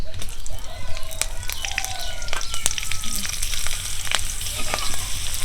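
Green chillies and whole spices (cumin, bay leaf, cardamom and cinnamon) fry in hot oil for a hilsa khichuri. The close, steady sizzle crackles throughout, with frequent sharp pops and spits and no talking.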